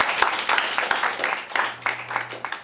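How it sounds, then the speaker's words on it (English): A school debate audience in Lagos breaks into applause for a speaker, a brief burst of fairly close, brisk hand clapping with faint voices mixed in. "A round of applause for him."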